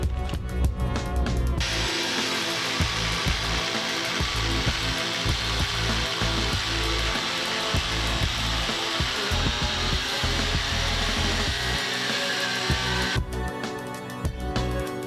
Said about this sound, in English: what I'm doing here is I'm just cutting that nut off, drilling out the hole